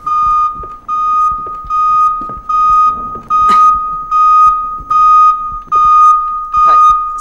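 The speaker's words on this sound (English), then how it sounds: "Smoke alarm." A smoke alarm sounds in loud, repeated shrill beeps at a steady pace, with a person talking and exclaiming underneath.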